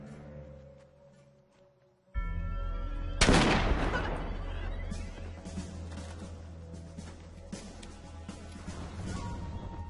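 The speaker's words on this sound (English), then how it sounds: "The rest of you be ready to provide covering fire on my command." Covering gunfire in an action battle scene: after a sudden loud onset comes a sharp, heavy blast, then sustained rumbling fire with scattered cracks, dense and close under a continuous musical score.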